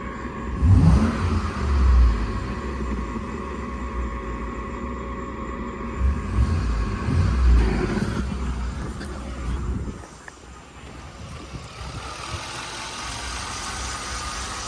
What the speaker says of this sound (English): Yeah, the belt's squeaking.